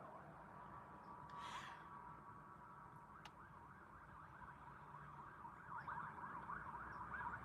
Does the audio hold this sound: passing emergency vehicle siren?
yes